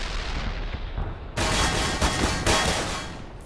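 Heavy gunfire in the video game Black Mesa, with booming shots and a sudden loud burst of fire that breaks in partway through, followed by further blasts. No one talks.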